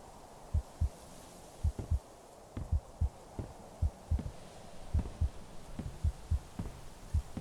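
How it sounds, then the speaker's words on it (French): A heartbeat sound effect from a Minecraft horror survival mod: a soft, steady double thump repeating about once a second, low and muffled over a faint background hum. "j'en ai marre de ce battement de cœur"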